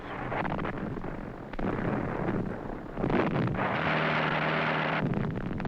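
Bombs exploding on old archival film, rumbling blasts and roaring bursts that swell in waves with a rough, wind-like wash, loud and continuous across the scene.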